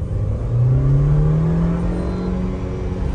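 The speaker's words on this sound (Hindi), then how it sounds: "अब की बारी हम इसका थोड़ा सा परफॉर्मेंस चेक करते हैं और गियरबॉक्स को भी मैनुअल में स्लॉट कर देते हैं।" A Mahindra Thar petrol automatic, its gearbox in manual mode, accelerates hard with a loud rising engine note that climbs steadily, then eases slightly and holds, close and alone.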